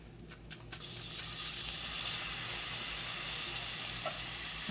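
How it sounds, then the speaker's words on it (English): Garlic cloves hit hot olive oil in a pan and break into a steady, close sizzle with crackling hiss that holds evenly to the end, no voices over it. "I'm going to put a few cloves of garlic in there."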